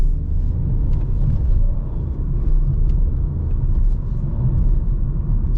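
A Renault Clio 2024 with a 1.0 TCe 90 hp petrol engine pulls in second gear at night, a steady low engine drone and road rumble from inside the cabin with no talking.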